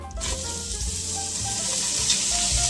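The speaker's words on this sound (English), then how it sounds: "Oh, I love hearing that sizzling sound." Steady, loud sizzling of leeks frying in butter in a pot, a continuous crackling hiss with low bubbling underneath.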